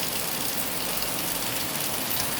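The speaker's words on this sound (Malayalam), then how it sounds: "രാവിലെ നല്ല മഴയാണ്" Heavy morning rain in Kerala pouring steadily, a dense even hiss of drops on surfaces close by, continuous and unbroken with no voices.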